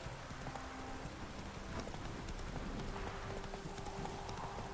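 Roach, Geralt's horse in the video game The Witcher 3, gallops along with a quick, even run of hoofbeats held at a low, fairly distant level over a soft ambient background.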